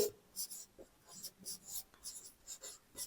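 Pen or pencil scratching on paper while writing a number for a class 5 maths problem, short strokes in several quick bursts, close and quiet with no speech over it.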